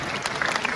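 Large audience applause at a Web3 and finance conference event, a brief, dense, loud burst of clapping filling the whole moment.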